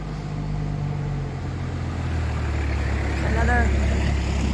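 A heavy truck's engine rumbles loudly and steadily, swelling as it drives past outdoors, with a voice briefly heard under the noise.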